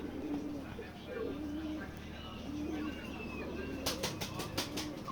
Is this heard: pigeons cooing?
yes